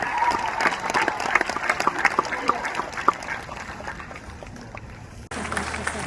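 An audience at a middle college graduation ceremony applauds, dense rapid clapping from a crowd that thins out toward the end, followed by a brief different-sounding tail.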